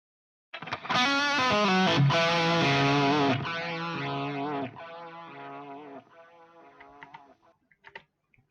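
Distorted electric guitar played through a Line 6 POD Go with delay and reverb: strummed chords ring loud for a few seconds, then quieter notes and a trailing echo fade out into a few sparse plucks.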